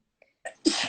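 A single sharp human sneeze, a short intake followed by a loud burst of breath, close and alone.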